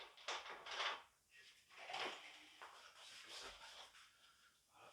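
Wooden alignment pins pulled from a wooden model railway module with a screwed-in helper pin, soft rubbing and scraping of wood in several short bursts, close and quiet, without speech.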